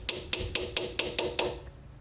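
Seven even metal taps drive a pinion seal home on a Ford transfer case power transfer unit, each strike ringing with a high pitched tone once the seal is fully seated, close and alone before fading out.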